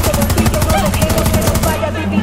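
Rapid automatic gunfire in the Far Cry 6 video game hammers out a steady, fast burst of shots, loud and close, then cuts off near the end.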